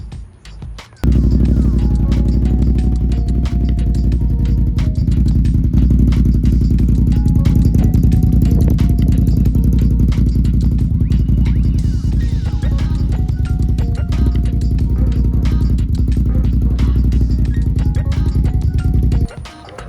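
Can-Am Renegade ATV engine firing up from cold, catching abruptly and settling into a loud, close, steady rumbling idle with a rapid clattery pulse that runs for nearly twenty seconds before cutting off.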